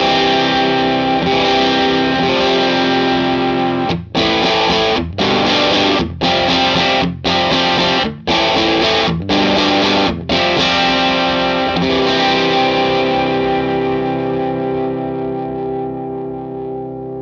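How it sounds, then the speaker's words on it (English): Electric guitar run through a boost pedal into a growly overdrive pedal, sustained distorted chords ringing loud and steady, cut by a series of rhythmic stops roughly once a second before a long fading sustain. "this is with the guitar signal coming in, going into the boost side, and then going into the overdrive"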